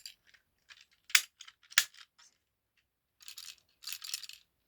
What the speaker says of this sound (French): Si je mets une bille dedans.